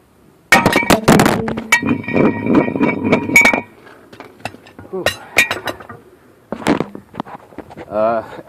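A stuck brake rotor on a car, braced against turning, is knocked loose, giving a burst of loud metallic clanks and clinks followed by scattered rattling knocks and a final clatter as the part comes free.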